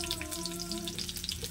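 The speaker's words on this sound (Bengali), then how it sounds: "পেঁয়াজ দিলাম।" Sliced onion frying in hot oil with bay leaf in a home kitchen pan, a steady close sizzle and crackle running the whole time at moderate level, with no talk over it.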